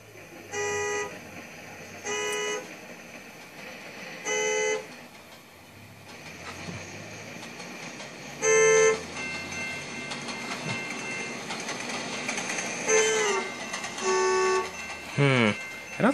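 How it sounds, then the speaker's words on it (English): A custom horn on a passing train in Trainz 12 gives several separate short blasts, the later ones sliding in pitch as the train goes by, over a steady rumble of rail noise. "Let's see what the Doppler effect sounds like."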